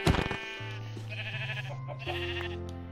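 A sheep in a survival video game bleats loudly and close, a drawn-out wavering call with a harmonic, nasal tone lasting several seconds.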